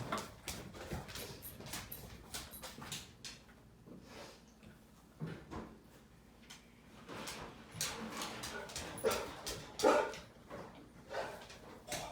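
Several dogs barking and whimpering indoors in uneven bursts, with yelps and scuffling between louder barks over a busy, noisy background.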